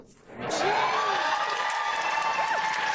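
A packed convention crowd bursts into cheering, whooping and applause that swells quickly and holds loud and dense for several seconds.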